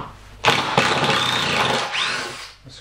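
A power drill backs screws out of a portable hinged folding workbench, a single close, loud whirring run of about two seconds that rises, holds steady and then winds down, with no talking.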